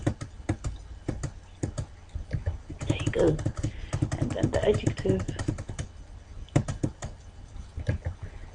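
Rapid clicking of keys on a computer keyboard, close and crisp, with a person speaking briefly over the tapping while working in Microsoft Word.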